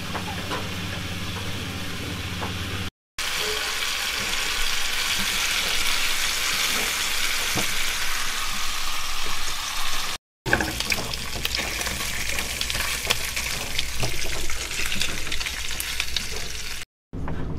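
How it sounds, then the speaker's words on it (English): Scrambled eggs frying in a pan aboard a sailboat, a steady close sizzle with scraping and stirring noises, interrupted by brief silent cuts. "We're making some scrambled eggs."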